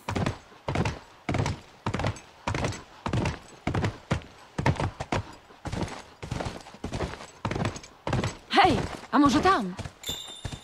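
Horse hooves clip-clopping in The Last of Us, a steady run of hollow thuds about twice a second that continues for the whole stretch, close up, with brief male speech near the end.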